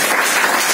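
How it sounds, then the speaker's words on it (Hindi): Brief burst of audience applause at a motivational speech event, loud and dense with no individual claps standing out. "रोशन जी की तालियां होनी चाहिए"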